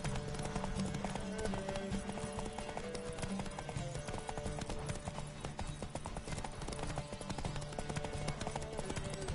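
Rapid clip-clop of galloping horse hooves in The Witcher 3: Wild Hunt, steady and driving, with faint voices and a busy game soundtrack layered underneath throughout.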